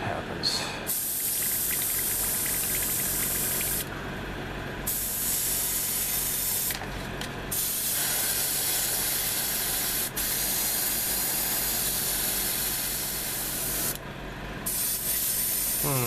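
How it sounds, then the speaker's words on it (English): An airbrush sprays neutral gray paint in a steady, loud hiss, cutting out briefly for short gaps now and then before resuming, close to the microphone. "I hope this doesn't clog up my airbrush doing this."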